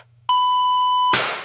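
A telephone gives a single steady electronic beep lasting nearly a second after the handset is hung up, clear and loud over a low hum, then cut off by a burst of noise.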